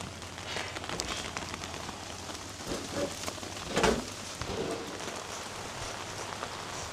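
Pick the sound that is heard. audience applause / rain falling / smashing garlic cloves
rain falling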